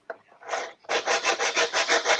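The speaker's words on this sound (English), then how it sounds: "All right, almost done sanding here." Sanding a part of a 1/6 scale N17 model build, a few tentative strokes followed by a steady run of about ten rhythmic, close-up rasping passes.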